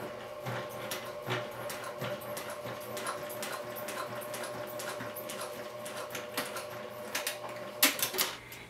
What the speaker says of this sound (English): take this over to your sewing machine and you're going to top stitch with a 1/4 inch seam